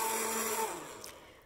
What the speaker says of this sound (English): Just blend it till it gets frothy, and then pour it into a cup to serve.